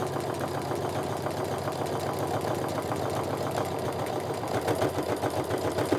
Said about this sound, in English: Now I'm just gonna sew my quarter inch seam all the way down.